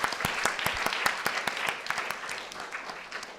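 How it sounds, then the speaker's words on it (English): A conference audience applauds its panelists at the close of a session on immigrants and urban housing, with a brief burst of distinct claps that slowly thins and fades. "let's give one more really big round of applause to all of our wonderful panelists"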